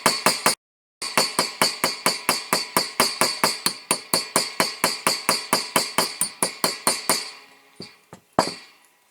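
Rapid, steady hammer blows on a metal punch against the wheel of a Lesney Matchbox No.4 Dodge Stake Truck, around thirty sharp close metallic taps with a brief pause early on, then slowing to a few last strikes.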